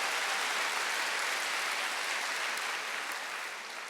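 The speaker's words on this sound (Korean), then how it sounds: "말씀은 그대로 이루어질 걸 믿는 사람만 박수해야지" A church congregation applauding during a Sunday worship service, a soft, steady roar of many hands clapping that gradually fades toward the end, heard from a distance without speech.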